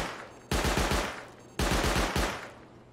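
Auto turret firing in the video game Rust, with two loud, close bursts of rapid automatic fire, each a quick run of shots followed by a decaying echo.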